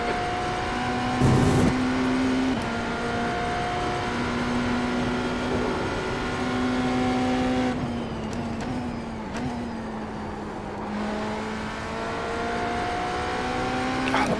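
An LMP3 prototype race car in iRacing at Monza, its engine droning steadily at high revs with gear changes and shifting pitch through corners, loud and continuous throughout.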